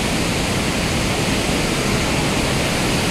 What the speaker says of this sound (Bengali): জলের প্রচণ্ড আওয়াজে আমার কথা কতটা শোনা যাচ্ছে জানি না